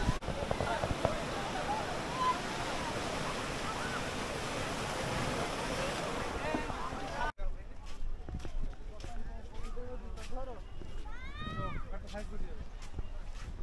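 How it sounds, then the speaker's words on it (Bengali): Rough, churning sea surf pounds Digha beach as a dense, roaring wash of waves and wind. It cuts abruptly to quieter surroundings where a person speaks with brief chirpy sounds. "আর দেখো কি পরিমাণে উত্তাল সমুদ্র"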